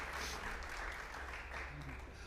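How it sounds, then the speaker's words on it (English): Applause for a string orchestra after a sight-read piece, a steady dense wash of clapping with no break, fairly faint and distant throughout. "Round of applause."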